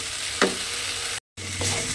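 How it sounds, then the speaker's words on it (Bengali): Onion, ginger and garlic paste sautéed in a pan, a loud close sizzle with a sharp stirring scrape early on, a brief cutout of silence, then the sizzle resuming with another scrape. "পেঁয়াজ আদা রসুনের পেস্টটা দিয়ে খুব ভালোভাবে একটু কষিয়ে নিতে হবে প্রথমে"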